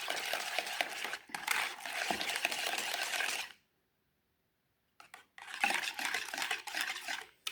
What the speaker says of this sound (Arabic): نخلطو هكذا